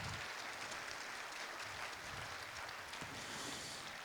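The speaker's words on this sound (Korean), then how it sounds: "큰 박수로 환영해 주시면 감사하겠습니다." Audience at a Dongguk University ceremony welcoming scholarship students onto the stage with a faint, steady wash of applause that stays even and distant throughout, with no speech over it.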